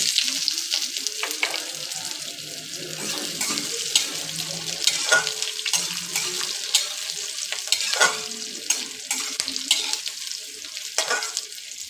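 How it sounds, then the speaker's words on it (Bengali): Chopped onions hit hot oil in a pan already seasoned with dried red chillies and bay leaf, giving a steady close sizzle with intermittent stirring scrapes and clatter throughout. "দেখো এবার আমি কেটে রাখা পেঁয়াজগুলো দিয়ে দেবো।"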